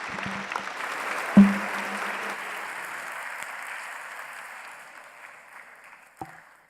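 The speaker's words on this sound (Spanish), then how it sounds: "les pido un aplauso más para nuestros participantes" Audience applause for panel participants at a conference, a dense burst of clapping that fades gradually over several seconds before a final thump, with a brief voice near the start.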